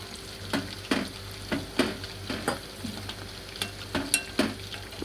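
Sauce for dragon chicken with vinegar and Kashmiri red chilli cooking in a pan: a steady close sizzle broken by regular scraping stirs and light clinks of a spoon against the pan, with no talking.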